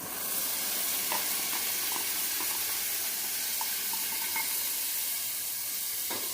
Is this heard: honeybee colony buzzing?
no